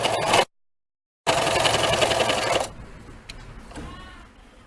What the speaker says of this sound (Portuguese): Agora sim, eu vou costurar na parte de baixo.